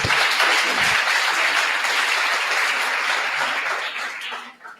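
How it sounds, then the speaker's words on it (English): Audience at a hackathon demo event gives a team sustained applause, a dense wash of clapping that holds steady for several seconds before tapering off near the end. "let's give them a round of applause"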